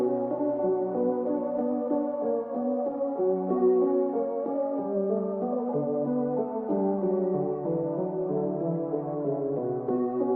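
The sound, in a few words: beat with filtered original sample and soul preset melodies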